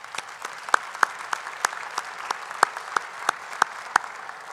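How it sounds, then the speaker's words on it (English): Steady applause from an audience, a dense patter of clapping with a few sharper claps standing out, no voices over it. "Let's give those a round of applause"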